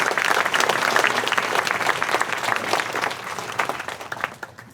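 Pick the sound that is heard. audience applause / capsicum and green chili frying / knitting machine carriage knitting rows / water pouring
audience applause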